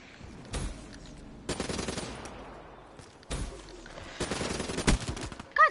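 Gunfire in Call of Duty: Black Ops, with several loud bursts and sharp shots spread across the moment, separated by quieter gaps of game ambience and no talk.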